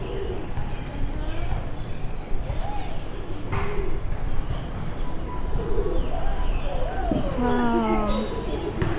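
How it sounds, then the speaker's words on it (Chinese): Several pigeons coo in repeated soft, rising-falling calls around the ground-floor open space of a Toa Payoh HDB housing block in Singapore, close by and steady, while someone talks over steady background hum. "这边这么多鸽子呀。"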